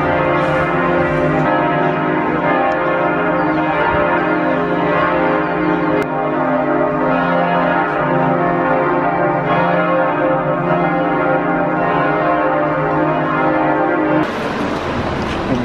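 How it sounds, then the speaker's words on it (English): Church bells ring steadily in Berlin, a dense, sustained wash of overlapping tolls that carries loudly throughout before shifting into brighter noise at the end. "Church bells."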